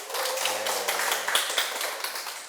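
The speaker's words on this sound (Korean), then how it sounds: "대단하니까 박수를 한번 보내주세요." Audience applause at a talk on attracting people: a dense, steady patter of clapping hands at moderate level, with a brief low tone underneath early on.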